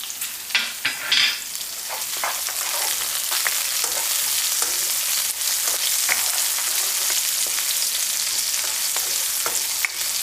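Cumin seeds and spices fry in hot oil with a dense, steady sizzle and crackle, close and constant. A few scrapes of stirring near the start fade into the continuous frying.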